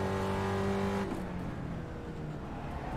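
A race car engine on track in the iRacing sim, a loud harmonic drone that holds steady and then drops away after a second into a rougher, fading whir.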